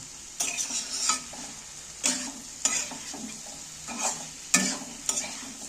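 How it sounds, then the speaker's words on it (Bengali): Spices and boiled potatoes sautéed in a pan for a Bengali egg curry, with a utensil scraping and stirring in several bursts over a low background sizzle, close and clear. "এইবার আমি ভালো করে কষিয়ে নেব।"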